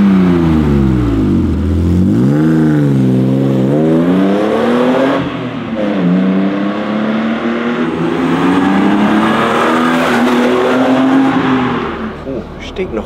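A BMW E36 328i with a Fox rear exhaust silencer pulls away and accelerates, its engine note climbing and falling through several revs, loud and close, with a voice heard briefly.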